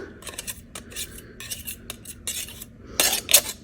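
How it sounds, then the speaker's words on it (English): A spoon scrapes and taps in a baking pan as a crumb base is pressed into the bottom, producing irregular metallic clinks and scratches up close, louder near the end; no talking. "So I can get ready to press this into the bottom of my pan now"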